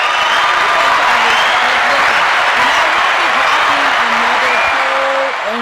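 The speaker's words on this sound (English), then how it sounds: "let me get another round of applause for that" An audience claps and cheers loudly and steadily for several seconds at a live storytelling event, with voices mixed into the crowd noise.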